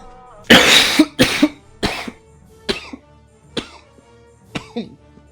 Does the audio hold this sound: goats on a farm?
no